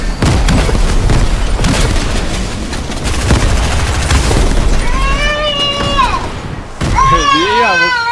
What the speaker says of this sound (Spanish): Espérate la granada